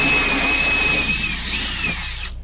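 A power drill whines at high pitch, close and loud, drilling holes in an RV body, running steadily for about two seconds before stopping abruptly.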